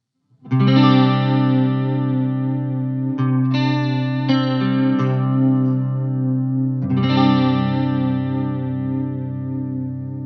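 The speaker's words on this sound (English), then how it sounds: "The pitch modulation mode is a basic vibrato with just a little bit of chorus" Sustained electric guitar chords through a TC Electronic SCF pedal in pitch modulation mode ring out with a gentle wavering vibrato and light chorus shimmer, restruck a few times and left to decay.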